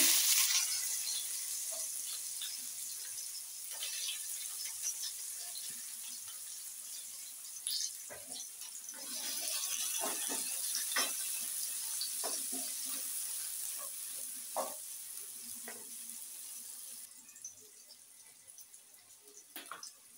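Chopped onion fries in a pan for a Bengali begun bahar, with a steady bright sizzle throughout, scattered clinks and scrapes of stirring, and a few louder crackles, close and without talk.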